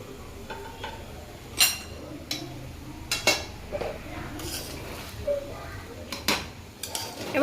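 A utensil clinks and scrapes irregularly against a metal pot while fried vegetables and ghee are mixed for veg pulao. The knocks are sharp and scattered, over a low kitchen background.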